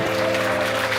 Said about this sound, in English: Make some applause.